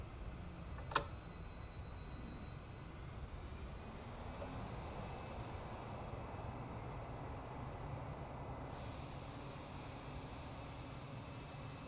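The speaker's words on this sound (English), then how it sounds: "787 at Lincoln. Another average landing." A Boeing 787 in Microsoft Flight Simulator rolls out after landing at Lincoln, its steady broadband engine and airframe roar holding at an even level throughout, with a single sharp click near the start and a brief shift in the high hiss toward the end.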